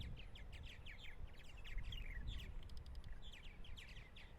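Purple martins call on a summer morning on eastern Long Island, New York, with adults and newly fledged young in flight; their dense, overlapping chirps and gurgling twitters come in quick bursts over a soft background rumble.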